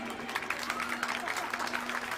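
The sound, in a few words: audience applause at school sports meet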